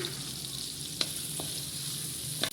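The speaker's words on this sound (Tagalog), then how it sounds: "Laglag natin yung small hipon." Small shrimp sizzle in a hot pan with ginger and tomatoes for a chicken and patola dish, a steady, close frying hiss with a few soft clicks of stirring.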